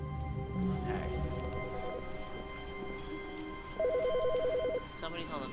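A telephone rings in a room in the video game The Stanley Parable, a rapid trilling bell burst heard twice over faint background hum, the second ring louder and longer.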